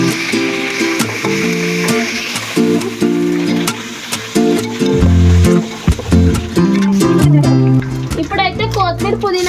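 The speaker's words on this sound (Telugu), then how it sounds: "ఇప్పుడైతే అల్లం పేస్ట్ వేసుకుంటున్నా" Ginger paste frying in hot oil as a tempering for bagara rice: a continuous sizzle with stirring, heard under loud background music and a voice.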